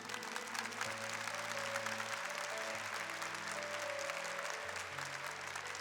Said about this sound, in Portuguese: Pode aplaudir, pode bater palma.